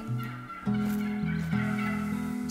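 Turkey gobbling from theHunter: Call of the Wild, a loud, steady run of rattling gobbles that holds for a couple of seconds with no talk over it.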